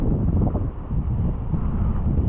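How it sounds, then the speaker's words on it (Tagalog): Strong wind buffets the microphone in a steady, loud roar with gusty swells, around trimmed trees and plants outdoors, with no voices. "lakas na ng hangin"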